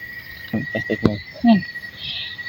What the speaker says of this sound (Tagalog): naririnig nyo ba yun? Yung mga kuliglig.